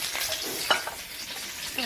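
Chopped onions hit hot oil in a pan and sizzle loudly up close, a steady frying hiss with a brief clink of stirring.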